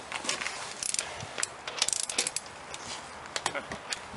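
A torque wrench ratchets on the wheel lug nuts of a 2007 Toyota Prius, giving a run of quick metallic clicks in irregular bursts, close and fairly loud against a noisy garage background.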